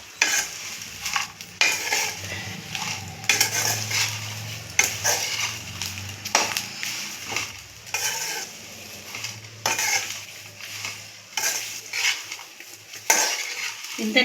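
Drumstick (moringa) leaves are stirred and fried in a pan for a spicy powder. Repeated scraping strokes of a utensil against the pan come in an irregular rhythm over a gentle sizzle, with occasional metallic clinks, close and clear.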